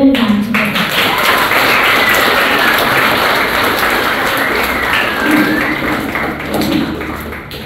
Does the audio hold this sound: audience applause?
yes